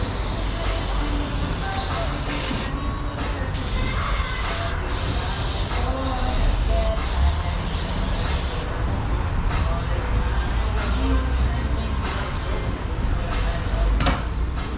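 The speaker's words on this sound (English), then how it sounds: "I'm going to spray those off too, to ensure maximum shininess" Cleaner sprayed to blast oil off the bolts on a Cadillac Escalade locking rear axle gives a loud, close, continuous hissing broken by short pauses, with a broad rushing wash throughout.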